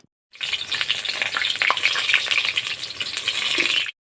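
Water lily (shapla) chops sizzle steadily in hot oil, a dense continuous frying hiss with faint crackles and a few soft utensil clicks, close and alone with no talking.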